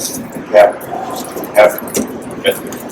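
A Shar-Pei mix dog on a reactivity training walk gives three excited, short barks and yips spaced about a second apart, close by, with whimpering between them and a person talking in the background.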